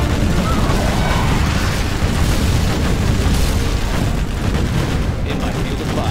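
Scud launcher blowing up in the Command and Conquer Generals strategy game: a loud, dense rumbling blast that fills the whole stretch as one continuous roar with crackling debris, with a unit voice over it.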